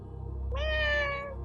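A human voice imitates a cat with a single short meow, a clear mid-pitched rising-then-falling call of about a second, close and alone.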